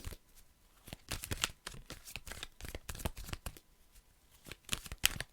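Tarot cards are handled and laid down in a series of crisp, quick flicks and taps with brief pauses between them, close and fairly quiet.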